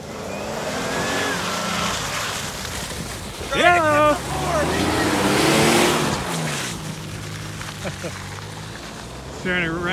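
A $500 Jeep Liberty 4x4 does a burnout on ice, its engine revving and surging up and down under loud wind noise, with people talking and shouting over it at times.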